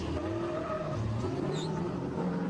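A BMW E30 drift car on a race track at Croix-en-Ternois, its tyres skidding and squealing in wavering tones over a continuous engine roar throughout.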